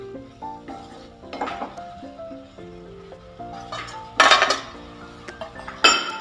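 A metal lid clanks shut over a pot of capsicum gravy while it cooks: two sharp, close clinking knocks over soft background music and faint kitchen handling.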